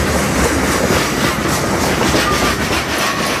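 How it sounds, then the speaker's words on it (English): A freight train loaded with rock rolls across a bridge in Lakeland, Florida, with a loud, continuous rumble of railcars and rhythmic clickety-clack from the wheels close by. "That's a rock train flowing through Lakeland."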